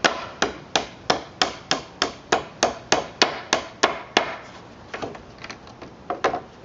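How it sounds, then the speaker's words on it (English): Steady hammer blows drive nails out of a wooden pallet, about a dozen sharp, evenly spaced strikes up close, then a few quicker, lighter taps near the end. "Then I can just hammer these nails out a little bit."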